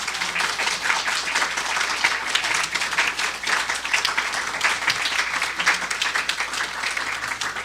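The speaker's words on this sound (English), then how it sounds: "Can you all just give them a round of applause" Sustained applause from an audience at a Sunday church celebration, dense steady clapping from many hands filling the room, loud and even throughout with no voices standing out.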